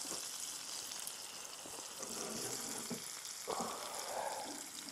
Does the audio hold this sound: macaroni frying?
yes